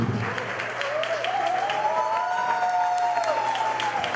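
An audience claps steadily in a hall after a speaker is introduced, dense applause throughout while a sustained whistle-like tone rises and falls above it.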